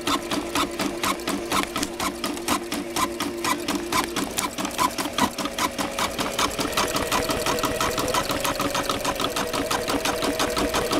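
A sewing machine stitching thread, its needle hammering in a fast, steady rapid rhythm close by, running continuously with a slight speed shift partway through and no talk over it.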